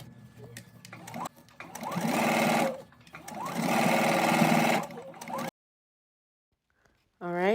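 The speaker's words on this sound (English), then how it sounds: "I'm going to stitch close to the inner pressed edge, leaving an opening to insert the elastic" Home sewing machine stitching an elastic casing on a garment, running in two steady bursts of rapid whirring, stopping briefly between them, then falling silent near the end.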